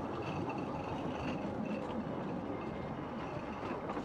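A 1950s-vintage narrow gauge locomotive runs with a continuous rumbling roll of wheels and machinery, steady and fairly close, with faint metallic clatter.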